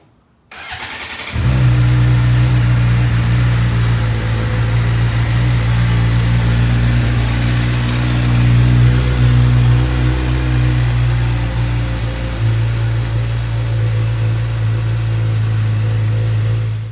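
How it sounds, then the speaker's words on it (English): Suzuki GSXR600 motorcycle engine starting and then idling steadily to warm up on level ground, loud and close, a constant hum with a slight dip near the end. "So we're gonna start the bike, check the level."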